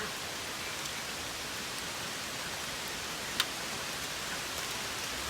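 Steady rain pouring down outdoors, a dense, even hiss of drops on surfaces that holds constant throughout, with one brief tap partway through and no talking.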